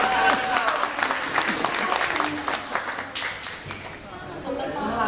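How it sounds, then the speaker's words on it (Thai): An audience applauds a young interviewee named Isabella at an On Air Academy event, a dense burst of clapping that swells and then thins out, with voices mixed in underneath. "ขอเสียงปรบมือให้กับน้องอิสเบลล่า"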